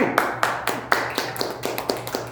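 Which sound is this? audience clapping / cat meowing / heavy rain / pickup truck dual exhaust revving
audience clapping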